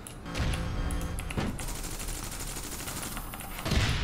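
Rapid automatic gunfire from the online shooter game APB Reloaded rattles in close, dense bursts, with a short pause in the middle before another sharp flurry near the end.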